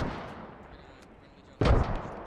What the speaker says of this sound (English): Mortars going out